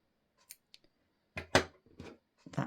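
Scissors snip yarn while fastening off crochet work: a few faint clicks, then two or three crisp, close cutting snips with brief rustles between, in a quiet room.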